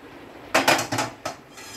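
Dough mixture clattering into a metal bowl in a home kitchen, a quick series of four or five loud metallic knocks and scrapes close by, then quiet.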